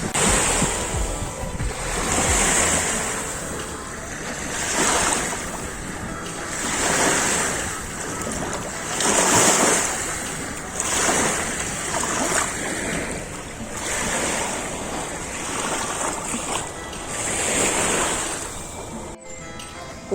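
Sea waves wash up on a beach in Hurghada near Downtown Beach, with rhythmic surging breakers every couple of seconds, fairly loud and close, over gusty wind buffeting the microphone.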